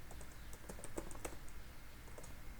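Quick bursts of keystrokes on a computer keyboard while writing code, light clicky taps in short irregular runs, close but quiet over a steady background hiss.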